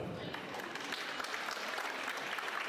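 A graduation ceremony crowd applauds steadily, dense clapping that carries evenly from start to finish at a moderate distance, with no speech rising above it.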